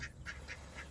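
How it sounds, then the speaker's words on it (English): Swedish blue ducks quack in four short, evenly spaced calls, close and clear over a low background rumble, with no talking. "My Swedish blue ducks,"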